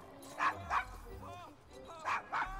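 Dog barking in the video game Assassin's Creed Syndicate, four sharp barks in two pairs, near and fairly loud, with a short whimpering sound between them.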